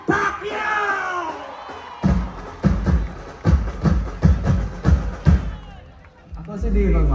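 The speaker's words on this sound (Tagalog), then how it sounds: "Isang malakas na sigawan para kay Senator Manny Pacquiao!" A crowd roars and cheers for Senator Manny Pacquiao in a series of loud, rhythmic surging shouts, with voices calling out over the din before the noise settles into a steadier murmur.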